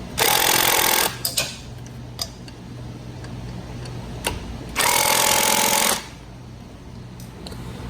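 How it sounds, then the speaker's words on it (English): Power tool tightening bolts on a Fiat 500 Abarth turbo downpipe: two loud sustained bursts of about a second each, separated by faint ticks and clinks of hardware, with no talking. "Now, should just be able to tighten these down."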